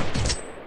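A short, loud burst of gunfire in the Free Fire battle royale game, a dense cluster of shots fading quickly within under a second.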